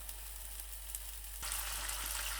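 Masala spices heating in a hot pan for a potato and eggplant dish, giving a continuous close sizzle that grows louder and brighter partway through, with no talk.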